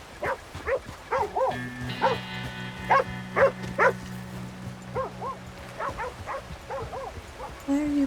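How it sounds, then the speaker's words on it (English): A dog in Red Dead Redemption 2 lets out short barks and yips near the player, among other in-game sounds, with a low droning tone underneath and a few other soft noises around it. "Why are you barking at me?"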